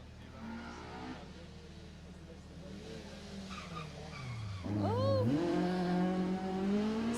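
A Peugeot rally car on a Jersey Rally stage roars past close by, its engine note rising and falling as it brakes, skids and accelerates away, with tire noise and faint crowd voices in the background.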